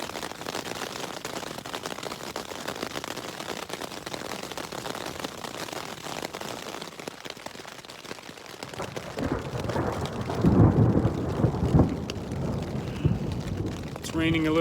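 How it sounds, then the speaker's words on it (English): Steady rain falls in the Uinta highlands, a dense close hiss on the ground, and a deep roll of thunder swells in the final seconds. "It's raining a little more in earnest now."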